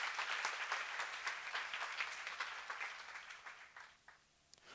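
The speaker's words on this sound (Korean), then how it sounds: "박수 좀 세게 쳐." Audience applause at a church seminar, a burst of dense clapping that gradually thins and fades out, leaving near-quiet at the end.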